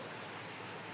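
Steady rain pours down around a partly built house, a close, even hiss of drops on surfaces with no voices.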